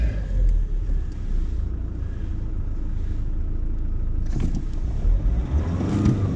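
A Nissan four-wheel drive's engine revs while out of gear, a steady, close rumbling drone that swells and falls, with a couple of brief knocks near the end.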